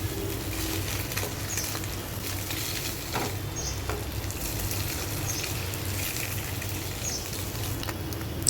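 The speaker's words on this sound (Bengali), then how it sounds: "2টা ডিমও আমি পেঁয়াজ ও কাঁচামরিচের সাথে ভালোভাবে ভেজে নিচ্ছি" Two eggs frying with chopped onion and green chili in a hot pan, a continuous crackling sizzle with light spattering pops, steady and close, with no voices.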